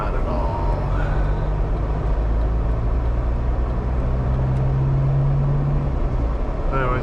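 A car rolls along a winter road on cheap winter tires, with a steady, loud low rumble of engine and tire noise filling the cabin throughout.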